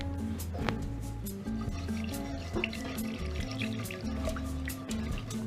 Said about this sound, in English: I'm going to quickly add the buttermilk.